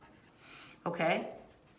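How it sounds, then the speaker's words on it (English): A pen writes on paper during an algebra lesson in a short, close scratching stroke of about a second, with faint room noise before it. "Let me just write this down"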